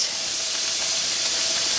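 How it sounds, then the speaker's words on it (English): Steam vents from a pressure canner during home canning of vegetable beef soup, giving a loud, steady, close hiss with no pauses. "so much steam is coming out of your vent"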